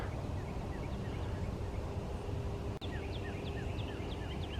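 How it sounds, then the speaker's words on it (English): A northern cardinal repeats a series of clear downslurred whistles at a moderate distance over a steady background hiss, on a dark, cloudy, windy morning in a park. "hear the cardinal over to my left"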